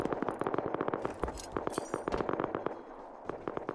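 Rapid bursts of rocket explosions from a base raid in the video game Rust, a dense volley of sharp cracks and booms repeating many times in quick succession at moderate distance.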